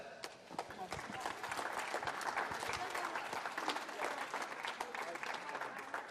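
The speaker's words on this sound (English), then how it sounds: "Round of applause there" A room of people at a squash league awards ceremony claps for a presentation, dense overlapping claps held steadily throughout with a few voices mixed in, moderately distant.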